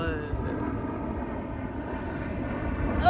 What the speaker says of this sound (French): je sais pas si le bruit de l'avion va couper ma voix